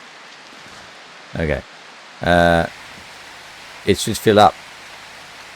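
Steady rain falls in the survival game Prologue, a soft continuous hiss in the background while someone talks over it in short bursts.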